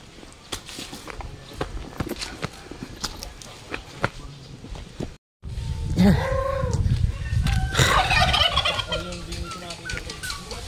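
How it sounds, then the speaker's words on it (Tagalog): Big Brahma chickens on a farm, with gobbling, clucking fowl calls rising in the second half alongside footsteps and rustling, while people talk nearby throughout. "dito daw yung malalaki talagang manok"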